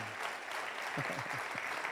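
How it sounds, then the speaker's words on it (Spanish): A church congregation claps in applause during a service, a short burst of dense, moderately faint clapping from a crowd, with a brief voice sounding underneath. "Hay que levantar aplausos de victoria, de gozo, de alegría."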